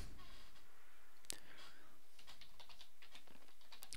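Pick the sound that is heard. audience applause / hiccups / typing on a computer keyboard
typing on a computer keyboard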